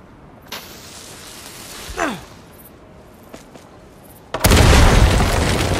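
In the video game Uncharted 4, a loud, sustained dynamite blast bursts in near the end, following quieter scattered thuds and a sighing breath; no talk.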